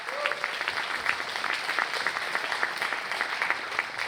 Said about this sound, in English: Ladies and gentlemen, huge applause for Samson Koletkar.